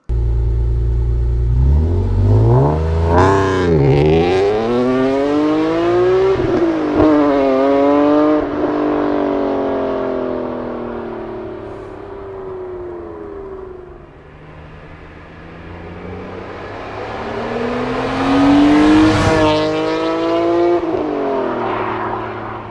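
A BMW S54 inline-six, the engine behind the M3 GTR endurance race car, revs hard at full throttle, climbing and falling through repeated loud sweeps with a raspy, harmonic-rich howl and no talk.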